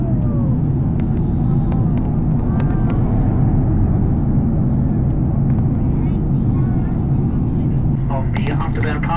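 An FA-18 jet flies past on an afterburner pass, a loud, continuous roaring rumble that holds steady throughout with a brief tearing crackle near the end.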